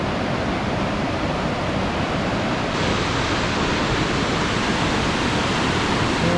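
Steady, full rushing of Mount Rainier's Homa Creek flowing, a constant broadband wash that never lets up, with no voices.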